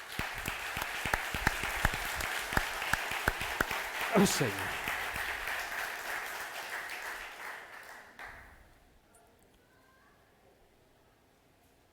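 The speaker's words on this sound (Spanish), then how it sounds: "Démosle un aplauso al Señor." Church congregation applauds during a sermon, dense clapping for about eight seconds before fading out, with a voice briefly calling out over it and quiet room tone afterward.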